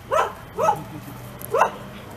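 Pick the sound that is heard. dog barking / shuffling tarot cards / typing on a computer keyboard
dog barking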